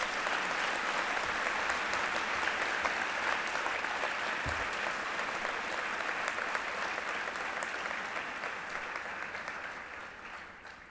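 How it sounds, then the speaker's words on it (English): A large audience applauds continuously at a graduation ceremony, a dense steady clapping that slowly fades toward the end. "Can I invite the graduates to give your parents a big round of applause?"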